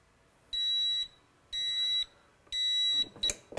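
The timer on an F2100 hybrid heat press beeps as pressing of a hat design finishes: three evenly spaced, shrill, close electronic beeps, each about half a second long, followed by brief handling clatter.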